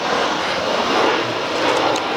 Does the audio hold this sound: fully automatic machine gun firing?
no